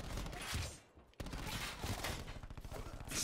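Gunfire in the video game Call of Duty: Black Ops 4, a rapid loud fusillade of shots with a brief pause near the middle before the burst resumes.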